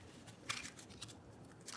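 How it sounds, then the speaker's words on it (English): Tarot-style cards are shuffled by hand in a simple way, faint soft riffling and sliding bursts with a couple of crisp flicks, quiet and close with no speech. "I do very simple card shuffling"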